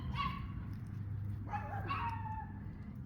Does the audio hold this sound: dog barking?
yes